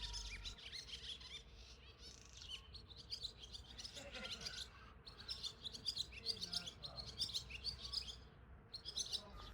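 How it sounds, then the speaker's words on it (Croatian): A swallow sings its morning song in an April garden near a stream and lakes, quick twittering phrases repeating close by over faint background sound. "Lasta pjeva svoju jutarnju pjesmu"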